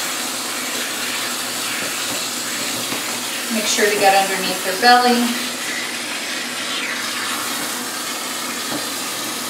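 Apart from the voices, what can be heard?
water rinsing a Silver Persian cat during a bath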